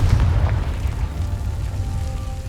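Confringo spell blast in the Hogwarts Legacy video game, a loud booming explosion with a dense low rumble that fades gradually over a couple of seconds with no pause.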